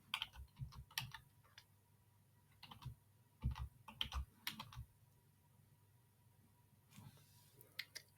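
Quiet, close computer keyboard typing in short clusters of crisp key clicks with gaps between bursts, in a calm room with no voices.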